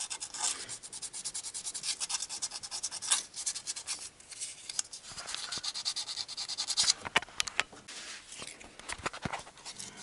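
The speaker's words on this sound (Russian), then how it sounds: "А подрабатывать чем буду? А наждачкой." Hand sanding of a valve guide in a cylinder head from a 2010 Renault Logan with bent valves, using sandpaper: steady close scratchy rubbing strokes run continuously, with no talk.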